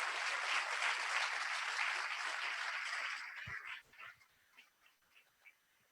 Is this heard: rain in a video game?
no